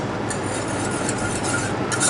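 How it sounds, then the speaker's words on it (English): A whisk stirs a sauce thickened with beurre manié, a steady close scraping and swishing that runs on without a break and with no talk over it. "So just continuously whisking."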